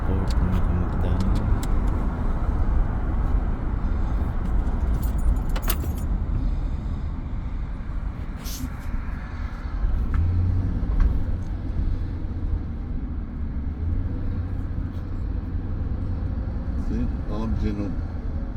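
Road traffic rumbles steadily through a broad, constant drone while riding toward the airport in the Philippines, with car and engine noise close by and voices talking over it throughout.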